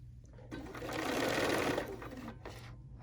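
A Bernina sewing machine stitches a quarter-inch seam in a quick, steady run of about a second and a half, close and clear, with a quiet background before and after.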